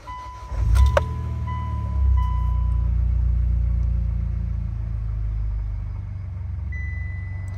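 A Mitsubishi Evo X MR starts with a short cranking burst and a chime, then settles into a steady, close idle rumble that slowly eases.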